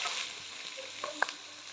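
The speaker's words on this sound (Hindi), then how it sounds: "अभी 3 बड़ी साइज़ के स्लाइस में कटे हुए प्याज ऐड करेंगे।" Three large sliced onions dropped into hot oil for chicken karahi, a close, bright sizzle with a couple of small clicks, brief and without talk.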